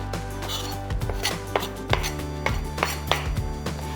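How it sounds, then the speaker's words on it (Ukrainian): A knife finely chopping fresh green basil on a board, quick irregular chops heard up close, with no speech. "А зараз я поріжу зелень. А саме базилік зелений. Дрібнесенько буду різати."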